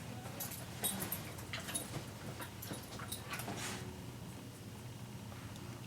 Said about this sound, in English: My dog's going nuts back there.